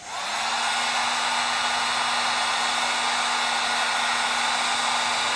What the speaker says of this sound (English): heat guns, they get hot